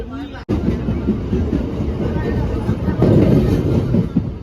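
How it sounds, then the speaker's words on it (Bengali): Continuous rumbling of a moving train with rhythmic rattling, loud and close, as if heard from inside a carriage. "তো ট্রেনটা বেশ ভালোই টানছে।"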